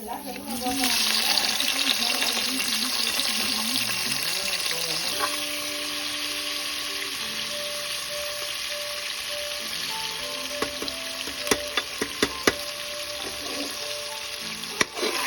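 Onions and tomatoes are frying in a pan with mustard seeds for sambar rice, a continuous hissing sizzle with occasional clinks of stirring while someone talks over it.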